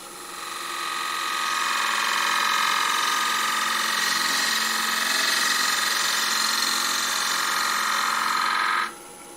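A bowl gouge cuts a wood face on a spinning lathe with a steady, loud hissing tear. It continues for about nine seconds before stopping abruptly, and no one talks.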